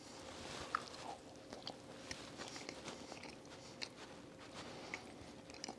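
Soft, close chewing and biting on a warm gluten-free, egg-free, dairy-free chocolate oatmeal cookie, with small moist crunches and smacks repeating irregularly under a quiet room background.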